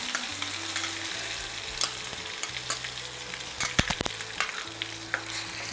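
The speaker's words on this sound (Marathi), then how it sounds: "आता हा छान फ्राय करून घ्यायचा आहे याच्यामध्ये आपल्याला" Onion-tomato masala sizzles and spits steadily in hot oil for Nagpur-style tarri poha. Spoon scrapes and clatters over the continuous close frying, with a few sharp knocks near the end and no voices.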